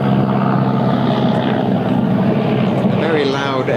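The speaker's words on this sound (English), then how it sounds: "A very loud aeroplane buzzes overhead." A very loud aeroplane drones overhead during a county cricket match in Sussex, a heavy, sustained engine roar filling the scene while a commentator talks over it.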